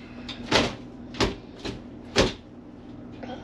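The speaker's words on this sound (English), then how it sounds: "These darn doors are hard to open" Cabinet doors on a 2004 Winnebago Brave 36M Class A gas motorhome open with several sharp knocks and clunks in a quiet interior, spaced irregularly, close to the listener.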